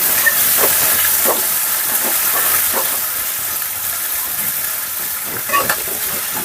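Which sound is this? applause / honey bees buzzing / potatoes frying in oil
potatoes frying in oil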